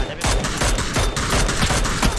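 Rapid bursts of gunfire in the battle royale video game PUBG, loud and dense, with repeated shot transients across the whole stretch and no clear talk over it.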